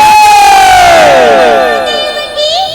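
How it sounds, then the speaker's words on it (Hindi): Devotees at a Chhattisgarhi jas geet devotional gathering shout a loud, unified victory chant, their voices sliding together in a drawn-out cry, then a second rising call near the end, close and powerful. "हाथ ऊपर करके मीठी मीठी तालियों से जोरदार जयकारा हो जाए।"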